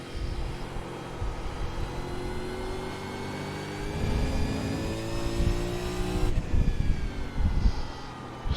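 A V8 Supercar engine from iRacing at Circuit de Spa-Francorchamps howls close up, its pitch climbing steadily through a gear, then dropping at an upshift and building again.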